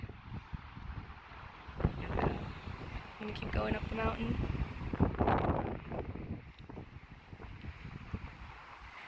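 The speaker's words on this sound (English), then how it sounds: "The wind gusts are pretty strong." Strong wind buffets the microphone in rough gusts on a Colorado mountain while a person speaks over the roar.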